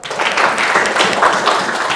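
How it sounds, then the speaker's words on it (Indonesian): Brief burst of dense audience applause in an Indonesian classroom, steady mid-level clapping from a group with no talk over it. "Tepuk tangan dong."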